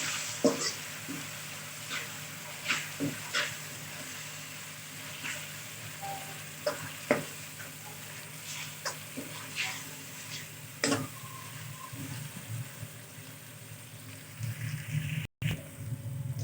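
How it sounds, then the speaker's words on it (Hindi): Steady sizzling of ginger and garlic frying in a pan, with occasional stirring clicks and scrapes; no talking. "अदरक लहसुन हमने थोड़ा भून लिया है"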